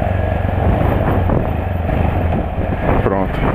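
A Yamaha XT660 motorcycle engine runs in second gear with a steady, close, rough rumble, and someone talks over it throughout.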